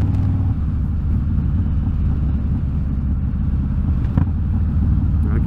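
A Harley-Davidson Low Rider S with a stage IV 131 engine accelerates nearby, producing a loud, continuous deep rumble that holds steady with a brief surge near the end. No one speaks.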